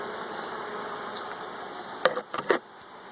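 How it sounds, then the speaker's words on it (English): Honey bees buzz steadily around a small split hive, a continuous mid-pitched hum broken by a few brief close knocks and rustles near the end. "Look at all those bees right there."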